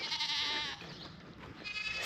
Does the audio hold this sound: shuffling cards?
no